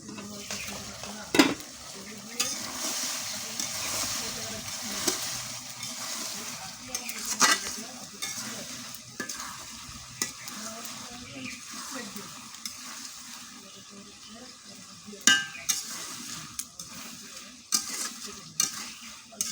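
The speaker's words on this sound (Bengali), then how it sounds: "অনেক সুন্দর ভাজা হচ্ছে" Pumpkin lentil dumplings (bori) fry in a pan with a quiet, continuous sizzle, broken by sharp clacks and scrapes as they are stirred and broken up with a spatula at irregular intervals.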